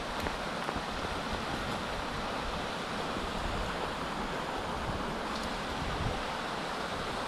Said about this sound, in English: So we're just going to get across this creek and head up that direction.